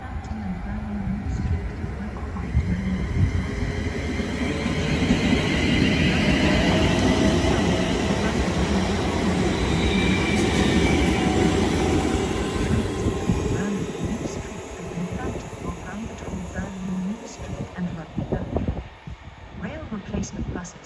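A Pendolino class 390 train, unit 390-104, passing through Watford Junction on the West Coast Main Line, a broad rushing roar that builds, holds loud for several seconds, then fades away, with some talk underneath.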